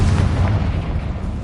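The Confringo explosion spell in the video game Hogwarts Legacy goes off as a heavy, rumbling boom that stays loud and dense for the whole moment, with no speech over it.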